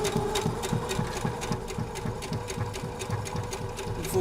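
A sewing machine stitches small fabric squares for a Christmas wall hanging, running as a steady close mechanical whir with a rapid regular needle clatter throughout, continuous and fairly loud with no talk.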